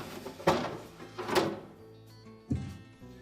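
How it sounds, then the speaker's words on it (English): Refrigerator crisper drawers on a Frigidaire fridge pulled out, three separate sharp plastic knocks and slides spaced about a second apart, quiet and close with no talk. "Pull the drawers out and set them aside."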